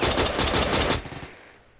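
Rapid automatic gunfire in Roblox Phantom Forces, a loud burst of quick repeated shots that stops abruptly and leaves a fading echo.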